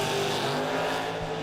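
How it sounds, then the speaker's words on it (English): Dragsters race down side-by-side drag strip lanes, a loud continuous engine roar filling a brief moment with no voices. "Black dragster and orange dragster, lanes 1 and 2."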